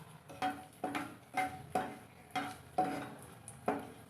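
Dried red chillies fry in hot oil in a wok, a soft steady sizzle broken by about eight regular scraping stirs of a spatula against the metal, close and fairly quiet, with no talking.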